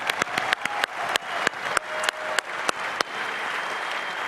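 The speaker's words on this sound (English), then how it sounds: "it's a big round of applause for them as well" An audience at a football signing day event in Portland claps steadily, a dense wash of applause with a few loud individual claps popping out near the microphone, fading slightly toward the end.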